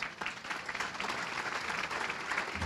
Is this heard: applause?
yes